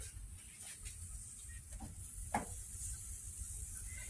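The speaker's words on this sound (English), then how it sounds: "I'm going to go ahead and start my roux, which is going to be 1/4 cup of butter" A quarter cup of butter melts in a pan to begin a roux for broccoli cheddar soup, giving a soft, steady sizzle and hiss with a brief stir or scrape partway through, faint and alone.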